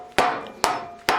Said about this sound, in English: This is a tight fit, so I have to hammer it in place.